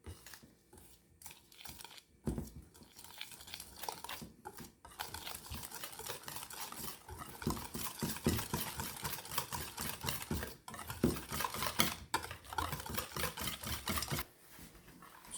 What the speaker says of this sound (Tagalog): one-fourth cup of whiskey. I'm going to mix all together.